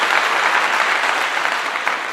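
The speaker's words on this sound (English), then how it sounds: "Clap it up again" A crowd applauds loudly and steadily at a gathering of Black farmers in Colorado, a dense, unbroken burst of clapping close at hand.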